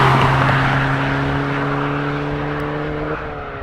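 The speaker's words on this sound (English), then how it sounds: "I'm just having a little drive about in the Golf on these amazing roads" A manual VW Golf GTI Mk6 cruises along Scottish Highland roads, its engine giving a steady, close drone that shifts pitch briefly near the end, with no talking.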